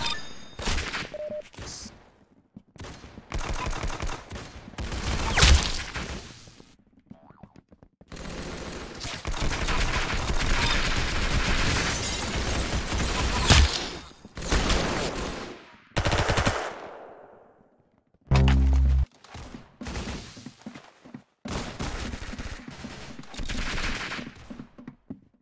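Rapid bursts of gunfire from the Roblox shooter Arsenal, loud automatic volleys and single shots in irregular clusters separated by brief pauses, with no talking.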